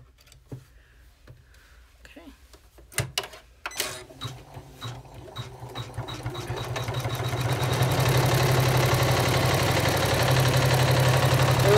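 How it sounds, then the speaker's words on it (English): An embroidery machine runs a placement stitch on vinyl for an appliqué clutch, starting with a few scattered clicks, then building into a steady, loud, rapid mechanical whirring and needle chatter that continues to the end without talk. "we're going to run the next stitch to know where to trim the"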